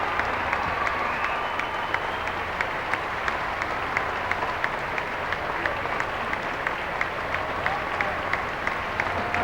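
A crowd of 2,400 faithful applauds steadily to welcome the Pope, a dense, continuous wash of clapping at fairly close range that holds at an even level throughout with no break.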